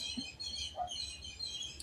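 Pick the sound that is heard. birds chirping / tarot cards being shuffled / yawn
birds chirping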